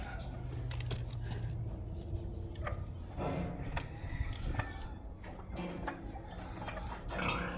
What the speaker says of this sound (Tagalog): Ito yung mga alaga kong baboy.